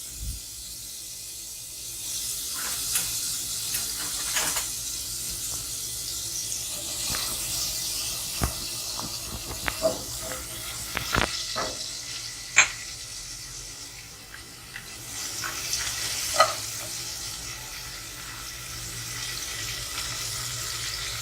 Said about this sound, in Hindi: 1 टेबल स्पून जो है वो मैंने इसमें मक्खन ऐड किया है और थोड़ा सा इसके साथ ऑयल डालूंगी ताकि जो है ये मक्खन जो है जले ना।